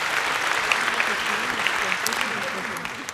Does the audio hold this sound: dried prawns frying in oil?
no